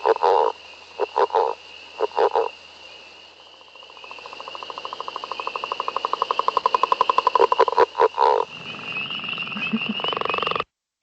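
Frog calls from anurans in a mountain wetland: repeated croaking bursts, then a long rapid pulsing trill that builds in loudness, followed by more dense calling, with no voices.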